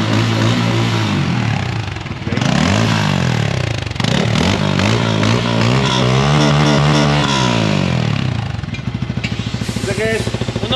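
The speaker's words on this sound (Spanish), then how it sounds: "Este suena un poco diferente." A Bajaj Pulsar N250 motorcycle fitted with a new aftermarket exhaust is revved repeatedly up close, loud rising and falling engine sweeps with short idle gaps between blips.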